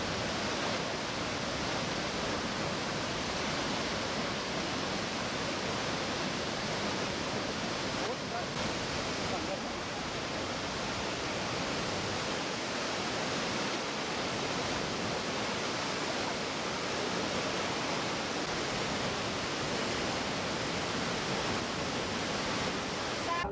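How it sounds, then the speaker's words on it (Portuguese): A steady, dense roar of falling water fills the whole stretch, loud and unbroken, like standing close to a large waterfall. "O Fabrício vai colocar no vídeo uma parte dessa cachoeira para você ter a noção de como a cachoeira é grande"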